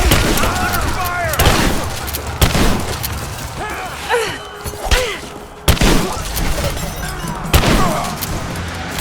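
Gunfire in the video game Rise of the Tomb Raider cracks out in loud, sharp shots and bursts spaced irregularly, mixed with thuds and impacts, while voices shout in the background.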